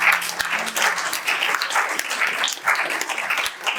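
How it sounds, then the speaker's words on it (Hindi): A small gathering at a church music program claps for a performer in uneven, moderately loud applause with irregular individual claps and varying intensity over a few seconds. "तालियां भाई साहब के लिए बहुत"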